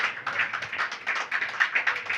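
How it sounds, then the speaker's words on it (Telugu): A church congregation clapping together in a quick, even rhythm, a close and steady patter of many hands with no voices. "చప్పట్లు కొట్టాలి మరొకసారి"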